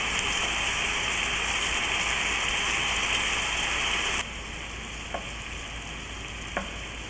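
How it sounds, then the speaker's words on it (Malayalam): Chicken pieces for butter chicken fry in a pan with a loud, dense, continuous sizzle, which drops in level partway through as the pieces are turned, followed by a couple of faint clinks. "ഓരോ ചിക്കൻ പീസുകളും 3 മിനിറ്റോളം കുക്ക് ചെയ്തതിന് ശേഷം മറിച്ചിട്ട് കൊടുക്കുക."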